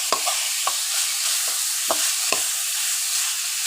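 Minced pork stir-fried for Thai pad kaprao in a pan with no added oil: a constant bright sizzle broken by several sharp scrapes and knocks of the spatula, close up and with no voices.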